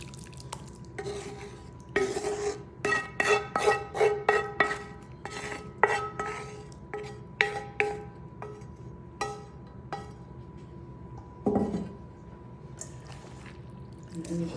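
Macaroni goulash stirred in a pan, a run of wet squelching, scraping strokes with clinks of the utensil against the pan, close up, with a little speech alongside.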